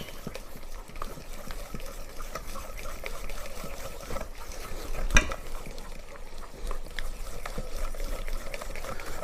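Butter is mixed into an egg yolk mixture, a continuous soft swishing and tapping of a whisk or spoon against a bowl, with one sharp knock near the middle.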